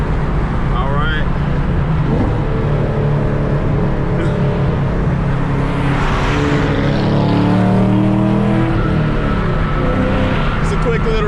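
BMW 335i fitted with downpipes accelerating hard in a roll race against another car, a loud, steady engine and road roar with rising and falling gear pulls, recorded from inside the car with voices speaking over it.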